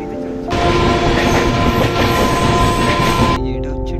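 The Pune–Santragachi Humsafar Express, running at top speed of around 120–130 km/h, gives a loud, dense rumble and rattle that cuts in suddenly and holds steadily for about three seconds before dropping away.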